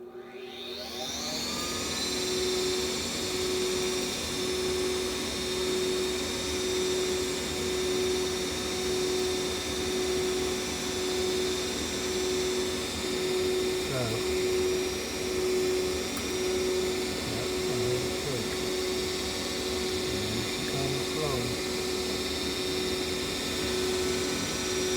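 A furnace inducer motor, its clogged vacuum port just cleared, starts up and runs as a steady, loud hum with a sustained mid-pitched whine, continuing evenly with faint intermittent rattles and no voices.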